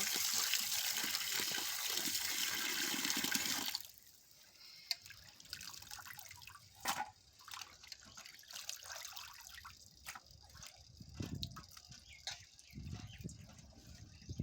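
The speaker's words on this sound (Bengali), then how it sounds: "ভালো করে জল দিয়ে ধুয়ে নেব।" Raw chicken pieces are washed under a running tap. A loud stream of water gives way to quieter splashing, dripping and handling of the meat in a sink, heard up close with no talk.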